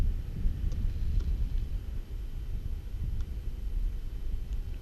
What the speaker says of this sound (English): And it is windy